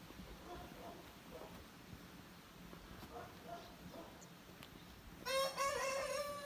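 Roosters crow in the Chinese countryside, faint distant calls early on and then one louder, nearer crow toward the end over quiet outdoor ambience.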